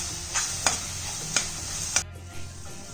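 Coconut and jaggery laddu mixture is sautéed in a pan while being stirred: a constant close sizzle with four sharp scraping strokes. The sizzle drops off abruptly about two-thirds of the way through.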